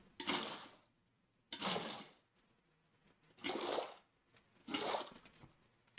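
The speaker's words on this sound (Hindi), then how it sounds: "अब गाइस हम लोग को यहाँ पे भरना है बहुत सारा पानी" Minecraft water flows in repeated bursts, four soft rushing splashes about a second long each, separated by quiet gaps, faint and with no voices.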